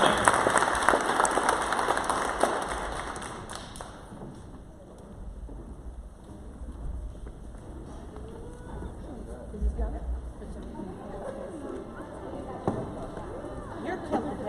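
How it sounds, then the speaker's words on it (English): An audience at a pitch event applauds, a dense wash of clapping that is loudest at the start and fades over the first few seconds, followed by murmuring, shuffling and speech in the room. "Round of applause."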